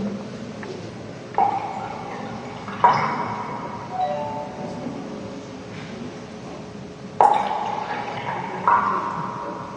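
Water scooped and poured with a small glass into a hollow vessel on Urandén island in Lake Pátzcuaro: a few separate splashes and glassy clinks over a quiet, hissing room background, with no talking.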